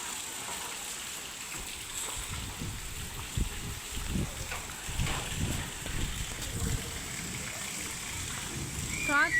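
Heavy rain pours down during a nighttime thunderstorm, a steady wash of noise with gusty, rumbling swells in the low end, loudest near the close.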